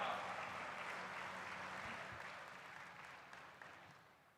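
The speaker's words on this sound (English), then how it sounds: "Please put your hands together and welcome with a big round of applause" Broad applause from an awards-ceremony audience at the 20th Bharat Asmita National Awards welcomes a guest to the stage, full at first and then gradually fading.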